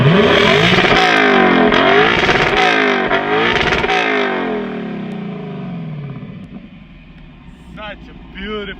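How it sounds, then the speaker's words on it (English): Naturally aspirated V8 of a Lexus LC500 convertible revved hard from behind the car, several loud rising and falling engine sweeps that then settle back toward idle, with a few faint sounds trailing at the end. "no review of a NA V8 engine is complete without a rev. Let's hear how it sounds like."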